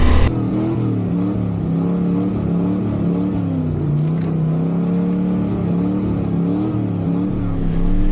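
An old Ford truck engine revs steadily while driving through snow, a continuous low throaty drone with shifting pitch that holds loud and near throughout.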